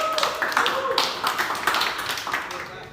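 A class of students claps hands together at the end of a lesson, a short burst of quick rhythmic claps with voices and chatter mixed in.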